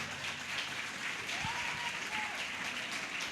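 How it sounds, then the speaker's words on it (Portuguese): A church congregation applauds during a sermon, with a dense, steady patter of clapping that carries on throughout and faint voices mixed in. "Aplauda ao Senhor mais uma vez."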